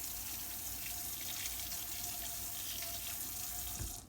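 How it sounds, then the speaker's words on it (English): Hot water running from a kitchen tap into a sink while tongs are rinsed, a steady close hiss and splash that holds even for the whole stretch, then cuts off abruptly at the end. "rinse the tongs with hot water"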